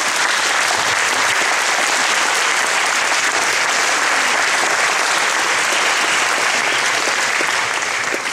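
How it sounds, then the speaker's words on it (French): Loud, dense applause from a large audience for Jean-Pierre Briard, many hands clapping close and steady without a break for the full stretch. "Jean-Pierre, levez-vous s'il vous plaît, on l'applaudit."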